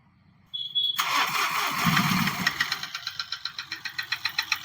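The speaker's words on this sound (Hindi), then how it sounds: "तो गाड़ी हम स्टार्ट करवा के दिखाते हैं आपको इसमें साउंड कैसा है।" A Mahindra Bolero Power Plus engine cranks and fires after a brief whine, then settles into a loud, rough idle with a rhythmic knocking beat, close by with no talk over it.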